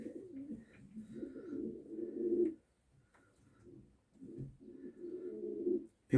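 Platinum and white-tailed tumbler pigeons cooing nearby: soft, throaty rolling coos in two long bouts separated by a short quiet gap, faint and alone.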